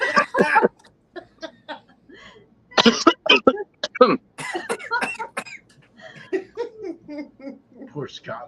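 A person with a lingering cough gives several short bursts of coughing and throat clearing, close and loud, mixed with laughter and talk.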